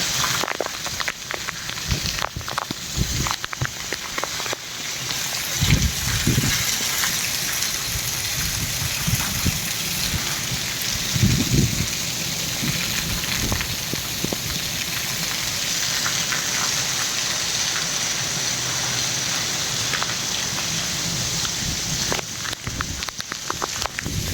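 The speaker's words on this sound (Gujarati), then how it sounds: "સારો એવો વરસાદ પડી રહ્યો છે" Heavy unseasonal summer rain pours down in a dense, steady roar, with occasional deeper gusts and thunder rumbles swelling through it.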